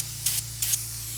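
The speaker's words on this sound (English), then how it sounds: "Spray into the vents just a wee bit so they're not looking dry." Two short, crisp hissing bursts of detailing spray misted into a car's interior air vents, evenly spaced and close, over a low steady hum.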